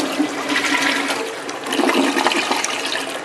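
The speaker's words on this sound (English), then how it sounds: "It's not a bad flush." An American Standard 1.6 toilet flushes in a newly plumbed bathroom, a loud, close rush of swirling water that keeps churning steadily for several seconds, with no voices.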